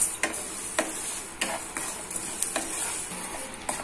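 Black urad dal dry-roasted in a pan for idli podi, with a spoon stirring and scraping the lentils in a series of sharp clicks and rattles over a soft background hiss; no one speaks.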